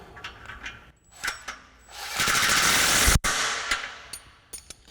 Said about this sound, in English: we're using a 17 socket and a 15 wrench for the top one.